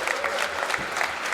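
A wrestling crowd at a show in Clapham applauds a wrestler, a dense, steady wash of clapping and cheering close by for a brief stretch.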